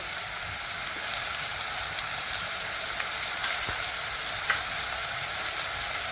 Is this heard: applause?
no